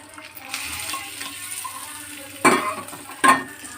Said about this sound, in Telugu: పోపు పెట్టేసుకుందాము